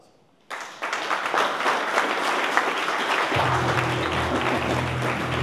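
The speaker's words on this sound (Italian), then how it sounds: "Un bel applauso." Applause breaks out from an audience at a Confindustria event in Udine as a guest is welcomed onto the stage, starting suddenly after a brief quiet and holding steady and dense, with a low hum or music entering near the end.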